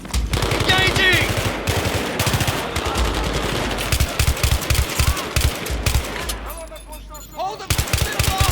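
Rapid automatic gunfire and bursts from a Battlefield 3 combat mission, loud and nearly continuous with dense overlapping shots, briefly easing near the end before firing resumes; shouted voices are mixed in.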